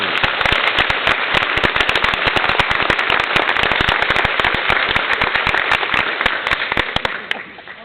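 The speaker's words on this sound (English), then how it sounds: "Go ahead and give these outstanding cadets another round of applause" Dense applause from a ceremony crowd honoring newly commissioned cadets, many hands clapping in a sharp, continuous crackle that holds steady and loud before thinning slightly at the end.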